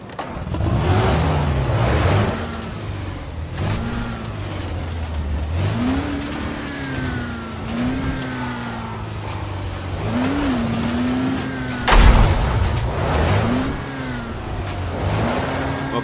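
A car engine in the video game Dying Light, revving up and down repeatedly in close, loud, rising and falling swells with gear-change dips, a brief thump midway and no talk.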